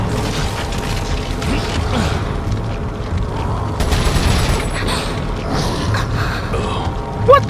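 Gunfire and clanking mechanical noises from Resident Evil 4, a loud, dense continuous game soundscape with rapid shots, metallic creaks and booms layered together, no voices.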